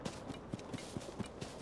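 Horse hooves in Zelda: Tears of the Kingdom clip-clop in an even walking rhythm, about six or seven soft thuds, close and unaccompanied by talk.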